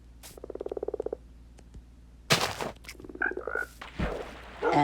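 Minecraft 1.19 frogs croaking in a game, a rapid run of even, pulsing croaks up close followed by a second shorter croak series amid brief thumps and game noises.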